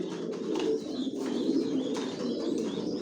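Racing pigeons in a loft coo in soft, low, rolling murmurs, several birds overlapping close by with faint chirps above, continuous for a few seconds.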